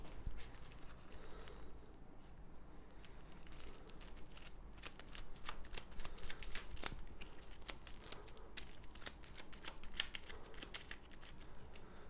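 Soft riffling and flicking of cards from a Battlestar Galactica board game, a steady run of crisp taps and papery flutters close by, with a few sharper snaps, no talking.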